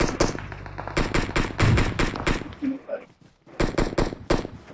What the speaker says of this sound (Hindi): ऐसी गन की आवाज़ आती है